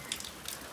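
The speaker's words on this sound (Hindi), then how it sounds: "बाहर देखो बारिश रुकने का नाम नहीं ले रही है भाई" Steady rain falling outside a village home, a faint, even hiss with a few brief soft patters.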